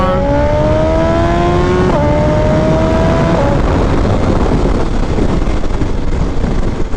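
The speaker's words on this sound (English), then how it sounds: "Let's do one pull, second gear pull, a little roll on" A Suzuki Hayabusa motorcycle pulls hard in second gear from a roll-on, its engine note climbing steadily in pitch, dipping briefly at a shift, under a constant loud rush of wind.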